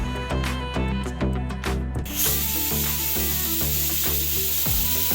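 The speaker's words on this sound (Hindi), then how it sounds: "टमाटर डाल के सारे में मसाले डाल दूंगी और इस तरीके से एक बढ़िया छौंक तैयार हो जाएगा" Tomatoes and spices are tipped into hot oil for a dal tadka and burst into a loud, steady hiss and sizzle partway through, under continuous background music with a rhythmic beat.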